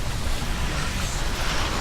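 Ocean surf in the video game Hellblade: Senua's Sacrifice, a steady broadband wash of waves and wind with no distinct breaks, close and constant, no voices.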